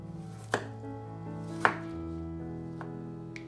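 A knife chops tomatoes into small cubes on a cutting board. A few sparse, crisp strikes land against a steady background of soft tonal music, moderately quiet.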